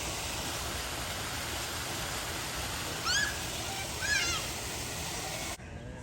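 A waterfall in the Japanese macaque habitat at the Detroit Zoo roars as steady, close broadband rushing, with brief bird chirps over it before the sound cuts off near the end.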